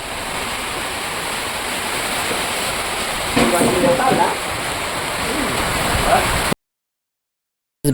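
A dense, steady roar of falling water, like a heavy downpour, fills the clip before cutting off abruptly into silence.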